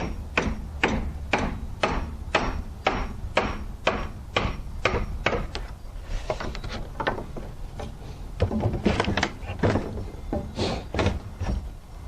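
Loud, evenly spaced hammer blows knock out wood from a window sub sill in a quick steady rhythm, then continue in a looser, more irregular series of whacks.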